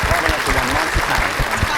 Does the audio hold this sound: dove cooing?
no